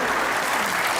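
A short, dense burst of audience clapping during a talk show interview, loud and continuous across the brief moment.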